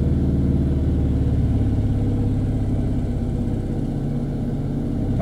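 Car engine revved while the car is held stationary on the clutch during a driving lesson, a steady, close mid-pitched drone with low rumbling harmonics lasting throughout, no talk over it.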